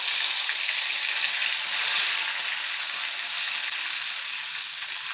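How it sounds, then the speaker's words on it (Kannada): Two sprigs of curry leaves fry in hot oil with a steady, bright sizzle that stays close and even throughout, with no talking over it. "ಈಗ 2 ಕಡಿಯಷ್ಟು ಕರಿಬೇವಿನ ಸೊಪ್ಪು ತಗೊಂಡು ಇದು ಹುರ್ಕೊಳ್ತಾ ಇದ್ದೀನಿ"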